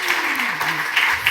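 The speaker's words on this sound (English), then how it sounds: "I think he deserves one special clap for everyone in the room." Conference audience at a European rivers summit clapping, a short steady patter of applause lasting just over a second.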